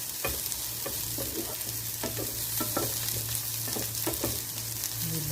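Okra sizzles steadily as it fries in a pan, with repeated scraping strokes of stirring at an irregular rhythm, close and alone with no talk.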